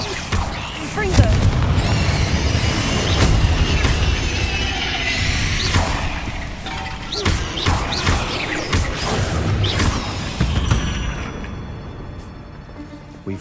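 Repeated Confringo explosion spells in the Hogwarts Legacy video game, a steady run of loud booming blasts and crashes with whooshes that fills the whole stretch, with game speech mixed in among them.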